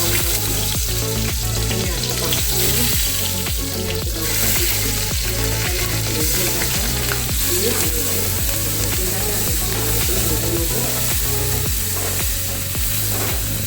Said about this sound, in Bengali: আমি এতে একটু সরষেটা লাগাচ্ছি এরপরে দেখুন আমি একে একে মশলাগুলো সব দেবো